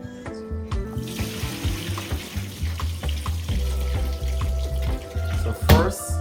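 Raw chicken wings are washed under running tap water, the splashing stream punctuated by rhythmic handling thumps and clatter in a sink, close and fairly loud.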